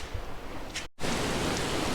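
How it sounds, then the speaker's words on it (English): Heavy rain pours outside a workshop in a dense, steady hiss of drops on surfaces, cutting out for an instant midway and then resuming just as loud. "As you can see outside, it's raining really bad."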